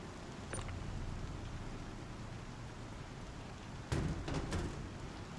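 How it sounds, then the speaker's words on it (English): Steady rain falling in the Star Citizen video game, a soft continuous hiss with a few brief louder bursts near the end, with no voices. "Why is it raining on me? I'm under a roof."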